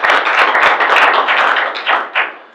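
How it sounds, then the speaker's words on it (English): A room of attendees at a business breakfast meeting claps for a guest speaker, a loud burst of close hand claps that thins out and tapers into a few final claps. "Another round of applause for Tracy and BizFed."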